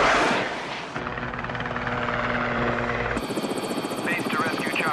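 A rescue helicopter flies close by, its loud steady rotor and turbine drone filling the air with a clear whine, while voices talk over it.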